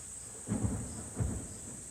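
Monsoon weather in a central Indian forest, with two deep rolling rumbles of thunder about a second apart over a steady hiss of rain and insects.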